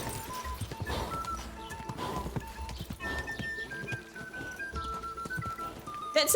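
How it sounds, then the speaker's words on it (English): Horse hooves clip-clopping in a steady canter with heavy snorting breaths and a brief whinny, close and loud over a game soundtrack in Kingdom Come Deliverance 2. "That breathing is actually from horses."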